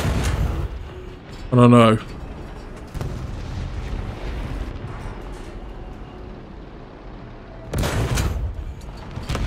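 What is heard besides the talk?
tank gun firing in a tank video game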